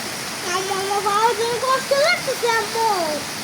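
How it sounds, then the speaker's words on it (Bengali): Steady rushing downpour fills the background while a voice talks over it continuously. "দেখেন কি পরিমাণ বৃষ্টি, মানে একদম আকাশ একদম ঘোলা হয়ে গেছে বৃষ্টিতে, এত পরিমাণ বৃষ্টি।"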